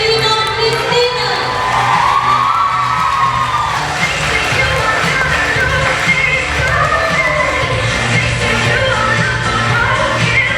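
A young crowd at a school freshmen's ball cheers, whoops and shouts in a loud, continuous roar that never lets up, with scattered voices rising above the din.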